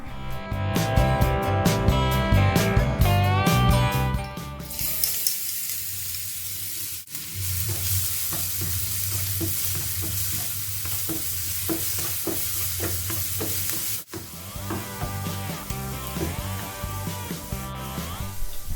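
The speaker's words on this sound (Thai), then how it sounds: "ตั้งกระทะ ใส่น้ำมันพืช เสร็จแล้วก็ใส่กระเทียมสับค่ะ ผัดพอให้มีกลิ่นหอมนะคะ" Chopped garlic stir-fries in vegetable oil in a hot wok, a steady close sizzle layered with the repeated scrape and clatter of a spatula stirring throughout.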